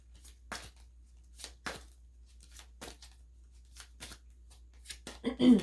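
Tea leaf fortune cards being shuffled by hand, a series of short crisp riffling bursts at an irregular rhythm, close and fairly quiet, ending in a louder rustle.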